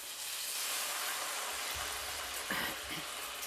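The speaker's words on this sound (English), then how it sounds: "we're going to deglaze the pan" A hot pan hisses and sizzles loudly as Madeira is poured in to deglaze it, a broad steady steam hiss with a few soft scraping bumps and no talking.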